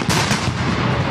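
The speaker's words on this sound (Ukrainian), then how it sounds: "І чуємо постріл" A loud, booming blast fills the moment, a single heavy cannon shot fired at a battle reenactment in Kyiv, with a rumbling, noisy tail.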